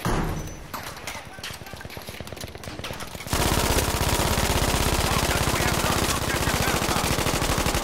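Sustained MG42 machine-gun fire in Battlefield 5, a fast, steady stream of close, loud shots that grows louder and denser about halfway through, with a voice talking over the gunfire.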